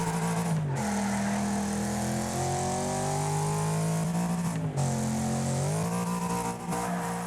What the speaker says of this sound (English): See? Over-revving does nothing.